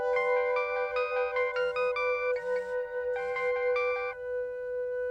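A mobile phone ringtone plays a bright, repeating electronic melody in short bursts, clear and fairly close, with no one talking over it. It is heard in a Crime Patrol crime drama.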